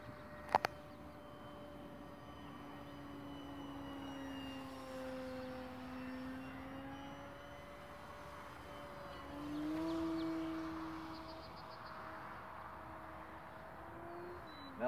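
A 60-inch scratch-built foam 3D RC airplane of dollar-store foam and packing tape flies at full throttle, its steady electric whine holding for about fifteen seconds, rising slightly in pitch near the middle, distant but continuous.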